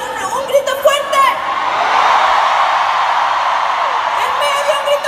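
A large concert crowd roars and shouts loudly and continuously, with a few cheers and whoops rising above the sustained din.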